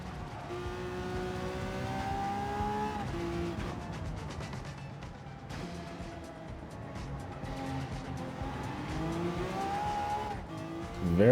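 Gran Turismo 7 race car engine drones loudly and steadily, its pitch climbing and dropping through gear changes, with tire noise underneath and a sharp surge right at the end.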